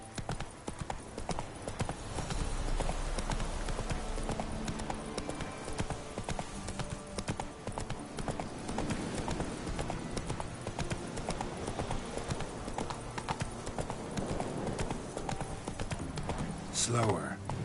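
Roach the horse gallops hard in The Witcher 3, a loud, driving clip-clop of hooves that holds a steady beat the whole way through. A voice speaks over it.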